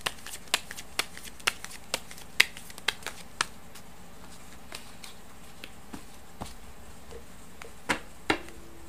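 Tarot fortune-telling cards riffled and tapped in a quiet room, giving a steady run of sharp, close clicks and snaps with a faint final slide.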